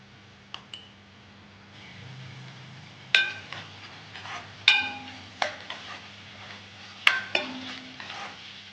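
Green chillies and ginger-garlic paste fry in a pan for a broad bean curry, giving a soft steady sizzle broken by sharp spatula clicks and scrapes against the metal, close and fairly quiet, with no talking.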